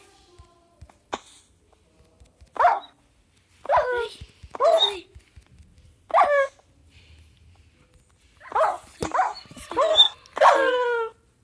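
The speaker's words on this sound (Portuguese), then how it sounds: "É o lobo que teleporta." A wolf in Minecraft gives a series of sharp, clear barks, about eight in all, spaced irregularly across a quiet stretch with a few clicks, while a voice speaks briefly.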